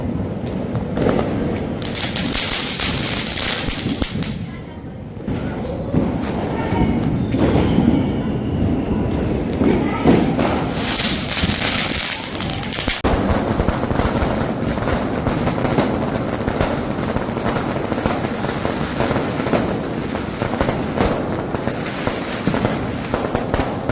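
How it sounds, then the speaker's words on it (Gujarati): Diwali firecrackers burst in a dense, continuous crackling barrage, loud and close, with sharp bangs throughout and no speech. "ફટાકડા ફોડવાની બધાને મજા અલગ આવે છે, એટલે પોતપોતાની રીતે બધા ફટાકડા ફોડે છે."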